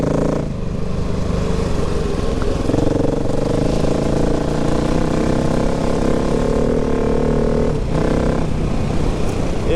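A 2019 KTM 690 Enduro R motorcycle engine, a loud continuous droning rumble that holds steady throughout with slight swells, heard up close outdoors.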